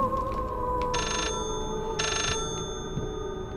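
A phone rings inside the horror video game Layers of Fear, giving two bright electronic ring bursts about a second apart over a dense, droning ambient background.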